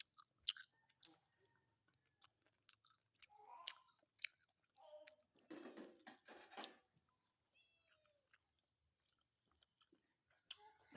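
Close, sticky chewing of a big mouthful of sticky rice with fish and padaek, with soft smacks and crunchy bites in irregular bursts and quiet pauses, and a faint voice briefly in the background.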